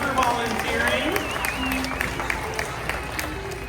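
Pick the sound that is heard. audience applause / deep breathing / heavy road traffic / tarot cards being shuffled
audience applause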